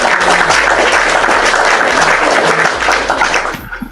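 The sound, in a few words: audience applause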